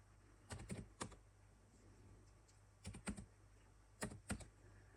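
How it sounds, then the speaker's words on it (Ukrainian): Short bursts of close computer keyboard typing as product codes are entered, three clusters of quick clicking keystrokes separated by pauses in a quiet room, no speech. "Починаємо вводити наші коди на ті товари, які нас цікавлять"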